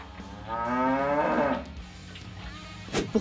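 A cow in a barn gives one long, loud moo that rises and drops away, followed by faint shuffling and a short bump, with no voices.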